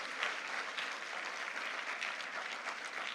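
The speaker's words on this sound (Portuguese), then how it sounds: "Dê uma salva de palmas a Jesus" A church congregation claps steadily and evenly for several seconds, a dense, fairly distant wash of applause with no voices rising above it.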